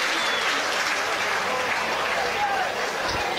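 Stadium crowd at a St Mirren football match applauds the travelling Welsh supporters, a broad, steady roar of clapping filling the space at a constant level, with a faint voice underneath.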